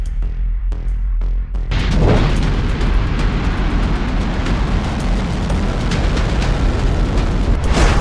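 A sudden deep roaring blast erupts after a few faint thuds, then a sustained loud rumbling rush continues steadily as a North Korean missile's rocket engine fires at launch.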